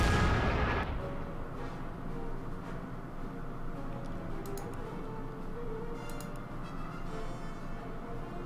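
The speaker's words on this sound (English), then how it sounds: "I'll force the artillery for another shot." A single heavy artillery shot booms at the very start in the Order of Battle strategy war game, then fades into a quiet, steady battlefield ambience with faint scattered ticks.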